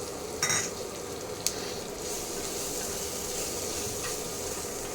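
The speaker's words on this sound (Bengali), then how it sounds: "রসুনটা একটু ভাজা ভাজা হোক," Chopped garlic sizzles in melted butter in a pan, a steady soft frying hiss with a couple of brief stirring scrapes near the start, close and moderately quiet.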